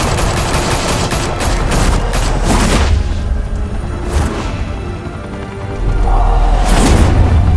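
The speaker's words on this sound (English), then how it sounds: "Open fire!" Heavy gunfire in Batman: The Telltale Series bursts out in rapid loud volleys and booming blasts, with a brief lull before another burst of shots and impacts.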